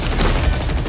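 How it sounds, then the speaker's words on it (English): A brief, loud wash of dense gunfire from the Gears of War E-Day shooter, heavy and continuous with low booming weight under crackling shots. "We're taking fire from both sides!"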